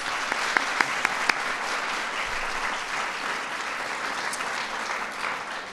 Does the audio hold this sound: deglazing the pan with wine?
no